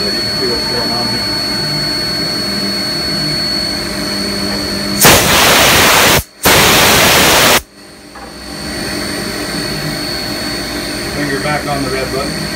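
CNC mill on a 4th axis cutting metal dry without coolant, two loud bursts of harsh broadband cutting noise separated by a short gap, over a steady machine hum.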